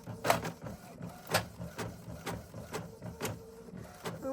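Home inkjet printer running off a small greeting card, a steady series of soft mechanical clicks and whirs from the print head pulsing about once a second, close and quiet.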